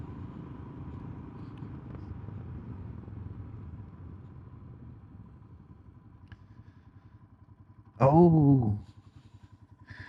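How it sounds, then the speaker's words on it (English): A Royal Enfield Himalayan's single-cylinder engine thumps low and steady while riding, held under light wind noise, with a brief spoken exclamation near the end. "The old thumping of a thumper. Good old Himalayan."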